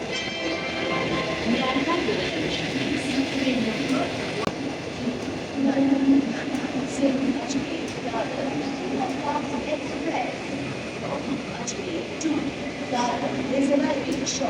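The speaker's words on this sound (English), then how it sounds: "Express Ajmer से चलकर दादर को जाने वाली कुछ ही समय में प्लेटफॉर्म क्रमांक 2 पर आ रही है।" An Ajmer–Dadar express train rumbles steadily at Navsari railway station, a continuous rail-and-wheel drone at moderate distance under a Hindi platform announcement.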